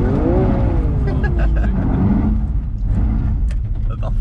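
A car at full throttle on the Montlhéry banked track, a loud continuous engine roar with a rising then falling pitch from inside the cabin, steady and close throughout.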